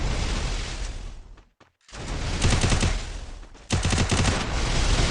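Sustained automatic gunfire rattles from a PC shooter game match, dense bursts filling the clip, with a brief silent gap near the middle before the firing resumes louder.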